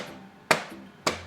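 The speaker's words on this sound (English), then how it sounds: "you're gonna knock it on the table to" A tray of piped macaron batter rapped twice against a table, giving two sharp, close knocks about half a second apart, each with a short ringing decay, alone.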